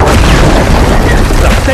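Bomb blast in the shooter Gears of War 4, a loud, sustained roaring boom that fills the whole moment with heavy low rumble and no gaps, close and overwhelming.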